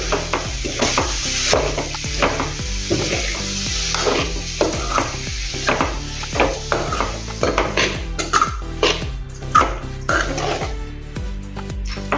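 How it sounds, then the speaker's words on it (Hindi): Finely chopped cabbage stirred with a wooden spoon in a frying pan, a steady sizzle under repeated scraping and clacking strokes against the metal, close and continuous. "पहले हम पत्ता गोभी डाल देंगे बारीक कटी हुई। अच्छे से मिक्स कर लेंगे।"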